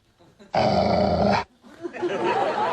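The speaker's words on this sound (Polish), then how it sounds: "Jesteś tylko małym, brzydkim psem." A small dog growls loudly and close for about a second, a rough sustained snarl, with quieter talk and movement before and after it.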